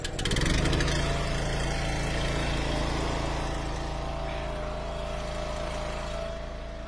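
Small engine, probably a chainsaw, running on choke after being pull-started near a pile of hickory firewood: a loud, steady buzzing drone close by throughout, with no talk over it.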